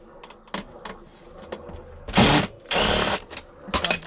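A cordless power driver whirs in short bursts as screws come out of a scrap PC case, with two longer runs of a couple of seconds each and clicks and handling noises in between, close up.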